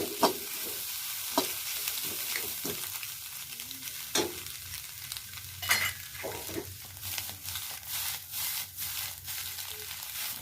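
Egg fried rice with coriander and pepper powder sizzles in a pan while a spoon stirs and scrapes, with scattered clinks over steady frying.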